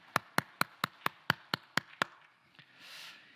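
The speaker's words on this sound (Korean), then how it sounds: "영광의 박수 올려드리겠습니다" A church congregation at a Sunday service claps nine sharp claps in an even, steady rhythm, crisp and fairly close, then falls into a quiet hum of room noise.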